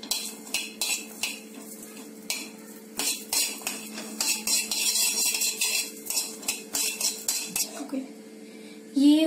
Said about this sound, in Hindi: तो मैंने कढ़ाई में जीरा और लहसुन डाला है, अब हम इसे भी थोड़ा सा सेक लेंगे।